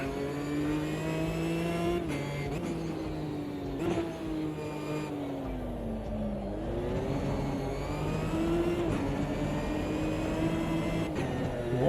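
A race car in the Automobilista 2 video game, out on track warming its tyres, revs and shifts repeatedly, its engine note rising and falling in steady sweeps, loud and continuous with no voices.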